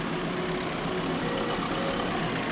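A tractor engine idles in Farming Simulator 22, a steady, dense low rumble that holds evenly throughout with no talk over it.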